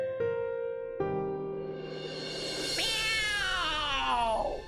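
A cat gives a long, drawn-out caterwauling meow close by, rising and bending in pitch over several seconds, heard on its own without talk.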